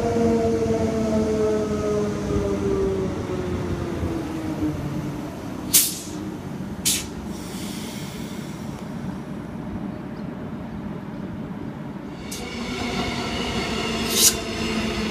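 A Queensland Rail SMU electric train pulls into platform 1 at Wooloowin, a rising and falling whine of traction motors over steady rail rumble, with several sharp squeals or horn-like bursts along the way.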